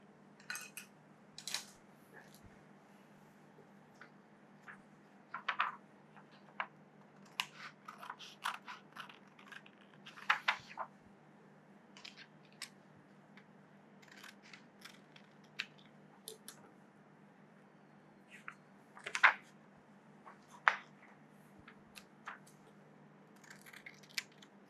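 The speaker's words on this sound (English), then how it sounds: "So once you've made the outline, you just need the scissors." Scissors cut around a marked outline on a transparent OHP sheet template for sugar flower petals. Small crisp snips and crinkles come in irregular clusters close by over a quiet hum, with no talking.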